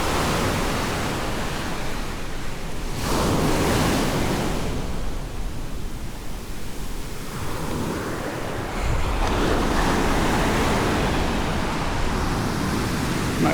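Ocean waves break and wash up on the beach at Lo De Marcos, Mexico, a loud, continuous roaring surf with broad swells rising and falling, mixed with some wind noise.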